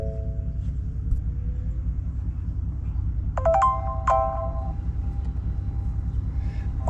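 Bronco digital gauge cluster start-up chime, a short, bright ascending run of electronic tones that rings out over the steady low rumble of an idling engine, no talking.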